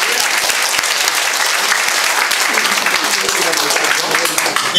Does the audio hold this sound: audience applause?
yes